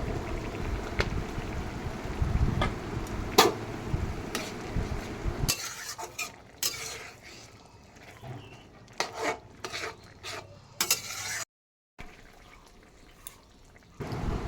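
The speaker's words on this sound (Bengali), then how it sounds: "আমি ঘি দিয়ে নেড়ে চেড়ে নামিয়ে নেব" Shukto curry with ghee being stirred in a pan, heard as a dense close sizzle and scraping for the first few seconds, then quieter intermittent spoon scrapes and clinks with brief gaps.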